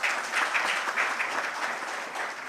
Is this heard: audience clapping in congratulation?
yes